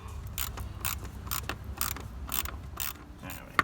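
Ratchet wrench tightening a radiator hose clamp on a Mercury Grand Marquis, a close, steady series of quick clicking strokes repeating in even bursts, with no talking.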